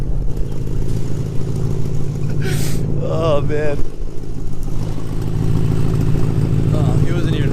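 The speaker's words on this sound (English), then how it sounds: "he wasn't even revving it that much there" A B7 Audi S4 25th Anniversary Edition with a straight-piped exhaust idles with a loud, rumbling burble, a brief rev rising over it midway, while someone speaks close by.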